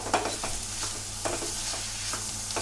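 Spices scrape and rustle as a spoon stirs them into cauliflower in a pan, repeated stirring strokes over a constant sizzle and a low hum.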